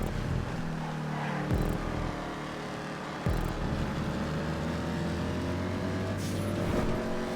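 Open-wheel race cars roar around a track in GTA 5, with engines whining steadily and pitch dropping sharply at each gear change, loud and continuous with cars passing close by.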